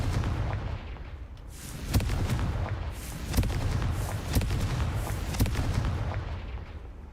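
Repeated fiery Confringo spell blasts in the Hogwarts Legacy video game, booming explosive bursts landing every second or so over a dense, continuous rumbling battle din.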